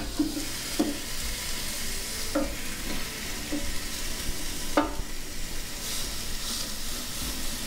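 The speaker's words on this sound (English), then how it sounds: "So we will put the steaks for 4 minutes. We'll cook on one side." Steaks sizzling on an indoor grill make a continuous close hiss, broken by several sharp tapping and clanking knocks from handling the grill and meat.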